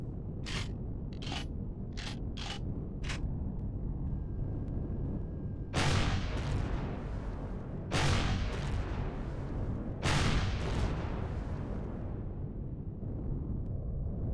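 In Empyrion Galactic Survival, 15mm turrets fire a quick run of short sharp shots, then several heavier booming blasts a couple of seconds apart, with a low mechanical hum underneath.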